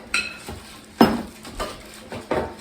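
A whisk works flour into pumpkin banana muffin batter in a bowl, giving several separate clinks and scrapes against the bowl at an uneven pace, close up and clear, with no talk.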